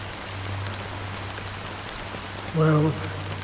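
Steady rain falls in the game Honkai Star Rail, a soft continuous hiss with a low hum beneath, briefly joined near the end by a short tonal sound.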